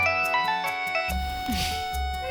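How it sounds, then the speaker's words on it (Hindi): A mobile phone ringtone plays a bright repeating electronic melody, close and clear, then gives way to dramatic music in an indoor household scene from a Hindi TV serial. "तुम्हारा फोन बज रहा है।"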